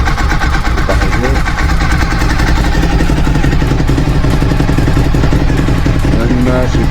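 A rebuilt Suzuki SV1000S V-twin idles slightly low and unadjusted, a loud, close, steady rumbling chug that holds even for the whole stretch.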